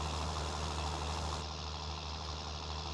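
An old 7810 tractor in Farming Simulator 19 hauls a load, its engine holding a steady, low drone at moderate level with no other sounds.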